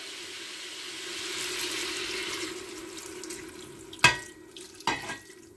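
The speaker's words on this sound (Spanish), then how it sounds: "Con el vino reducido añado ya el vaso de agua." A glass of water is poured into a pan of chicken pieces with reduced wine, giving a soft, sustained pour that ends in two sharp splashy clatters close by.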